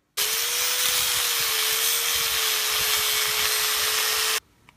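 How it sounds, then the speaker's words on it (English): An angle grinder cuts through a large steel plate, producing a loud, continuous high-pitched whine and broadband grinding hiss that holds steady for about four seconds before stopping abruptly. "I'm going to cut it apart with an angle grinder and use this main big plate of steel."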